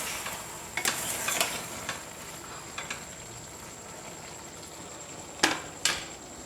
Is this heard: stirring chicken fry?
yes